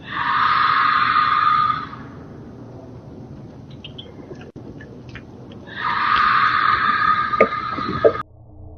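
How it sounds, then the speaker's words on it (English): A loud, sustained scream rings out from woods near a backyard pool at dusk, recorded by a doorbell camera. It comes in two long bursts separated by a few seconds of quieter ambience. "from the nearby woods, a blood-curdling scream echoes"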